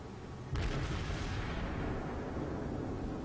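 A Pensacola-class cruiser's main guns fire in World of Warships: a sudden loud broadside blast followed by a long rumbling, booming decay with no voices over it.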